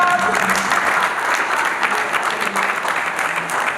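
Audience at a Manchester United fan event breaking into applause, a steady, dense wash of clapping from a sizeable room lasting a few seconds with a few voices mixed in.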